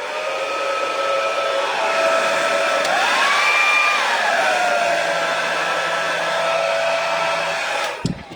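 A hair dryer blows steadily to dry wet fluid paint, a loud continuous whine that rises briefly in pitch mid-way, then cuts off with a click at the end.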